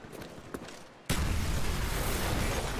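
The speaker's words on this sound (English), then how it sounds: "That was actually a pretty dang cool explosion, man." An explosion in the video game Call of Duty: Black Ops bursts in abruptly after a quieter stretch of faint clicks, then settles into a loud, sustained broadband rumble that continues to the end.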